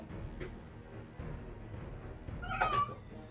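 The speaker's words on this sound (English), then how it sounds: "before my cat starts yowling really loud" A pet cat yowls once near the end, a short loud cry standing out over faint room noise, heard close by indoors.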